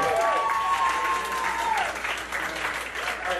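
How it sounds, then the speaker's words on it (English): An audience at a live art battle event in Vancouver breaks into sustained, loud applause, steady clapping filling the room, with a voice speaking over it. "Big round of applause for Rodrigo."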